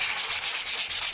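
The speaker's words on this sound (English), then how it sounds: "just a little bit sanding like that." Rhythmic hand sanding of painted wood, sandpaper rasping back and forth in quick regular strokes, close and fairly loud.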